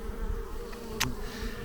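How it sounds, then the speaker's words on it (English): Honey bees buzz steadily at an opened hive of calm bees, a dense, close, continuous drone with one brief sharper click near the middle. "They're very calm bees, and they let me go in there."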